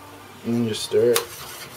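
A metal utensil scrapes and clinks twice against the inside of a pot of water and baking soda, two short strokes in quick succession, close and fairly loud.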